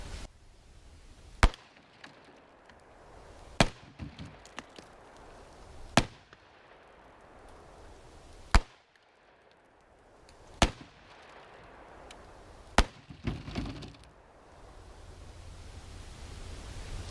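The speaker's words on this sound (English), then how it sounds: "shoot the block on your left with the 357, the block on your right with the 44" A .357 and a .44 revolver fire at concrete blocks: six sharp, loud single shots spaced about two seconds apart outdoors, each ending in a short echo.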